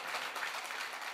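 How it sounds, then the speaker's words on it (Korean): A church congregation claps together during a Sunday morning worship service, a dense, steady wash of applause that fills the whole short moment with no voices over it. "박수 한번 합시다"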